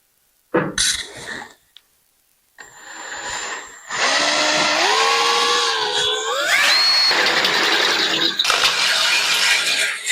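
A hand-held power drill, used freehand, whines up and bites into metal on a utility trailer toolbox mount, its pitch rising as it cuts, after a few short knocks and a pause.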